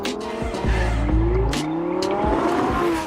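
A car races off in a film scene, engine revving hard with tire squeal and skidding, loud and close, sweeping through the whole burst.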